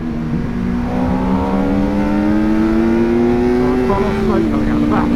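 An MV Agusta motorcycle pulls away on a first ride, its engine note climbing steadily through the revs, with a brief shift near the end, close and loud under some talk.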